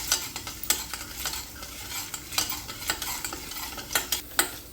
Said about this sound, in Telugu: సో ఇలా ఈవెన్గా చక్కగా పోపు అంతా బాగా వేగాలండి, ఏవి పచ్చిగా అయితే ఉండకూడదు